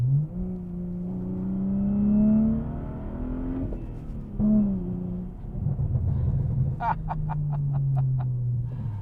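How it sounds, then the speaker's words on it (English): A 2013 BMW 335i coupe with muffler deleted drones and revs up through the gears, its exhaust rising and falling in pitch, ending with a rapid series of sharp crackling pops. "The exhaust is a beautiful symphony that will intrigue and annoy the neighbors."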